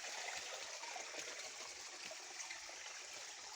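A creek with flowing water along a path, giving a steady, close wash of running and trickling water with no voices over it.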